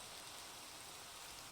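Rainfall in the block-building game Minecraft, modded, hisses as a uniform broadband wash for a short stretch before cutting off abruptly at the end; no talking.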